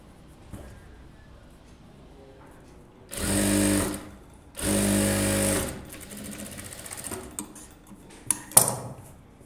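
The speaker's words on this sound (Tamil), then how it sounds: "அதுலேருந்து கனெக்ட் பண்ணி தையல் போடுங்க" A sewing machine stitches the seam of a close-neck blouse in two steady, whirring runs of about a second each, followed by light clatter as the fabric and parts are handled nearby.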